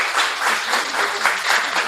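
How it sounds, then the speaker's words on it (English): Seminar audience clapping in a sustained round of applause, fairly loud and close, with slight swells in intensity. "Another round of applause."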